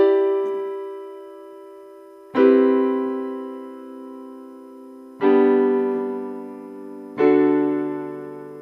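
Piano plays the opening of a song as four slow chords, each struck firmly and left to ring out and fade before the next, close and clear with no voice.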